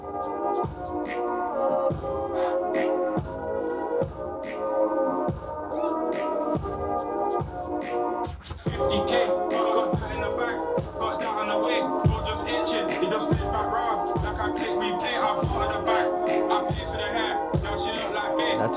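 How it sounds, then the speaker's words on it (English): A hip-hop beat plays steadily with punchy kicks, crisp percussion hits and finger snaps, plus scratchy DJ-style bursts in the second half, all at a moderate, even level. "That's the beat right there."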